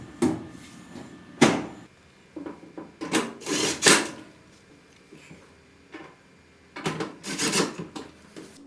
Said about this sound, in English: Align the top panel to the dryer and slide it forward and reinstall the 2 screws to secure it in place.